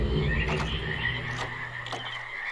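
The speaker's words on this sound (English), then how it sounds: "It's a lot of frogs." A dense chorus of frogs croaking in the Channelwood area of the video game realMYST, a loud, steady overlapping pulsing with no voices.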